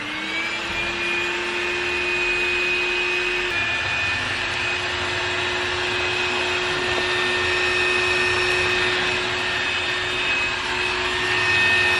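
A Bobbot cordless vacuum cleaner fitted with a floor brush runs close by, a continuous high motor whine with a steady airy rush and a slight pitch shift partway through, and no voices.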